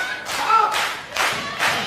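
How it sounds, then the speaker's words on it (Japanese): A crowd at Korakuen Hall claps in rhythm during a 2016 Pro Wrestling NOAH match between Go Shiozaki and Takashi Sugiura, with steady, even claps under a commentator's voice. "手拍子を煽る"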